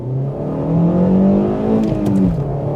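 A ninth-generation Honda Civic Euro with a manual gearbox revs up smoothly, its engine rising then dropping briefly at a gear change, heard from inside the car and fairly loud with no voices.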